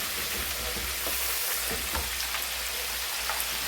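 Food fries in a pan over turned-down heat on a Blade GSX cooker, making a steady close sizzle with faint crackles and soft stirring scrapes that hold an even level.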